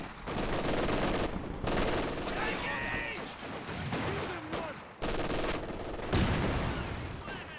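Soviet machine gun fire in Company of Heroes 2 while mortar shells land around it, with dense overlapping bursts and booms running almost nonstop and a heavier blast near the end.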